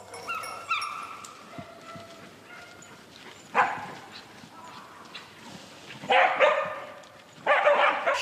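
An English Springer Spaniel, a flushing dog working a big-game hunt, gives a few short barks and yips amid outdoor rustling, with louder bursts of barking near the end.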